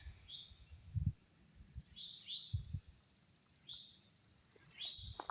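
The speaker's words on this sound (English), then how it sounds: "Listen to the birds." Scattered bird chirps and short rising calls from several birds somewhere outdoors on a mild West Virginia morning, fairly faint and distant, with a few low thumps and rustles nearby.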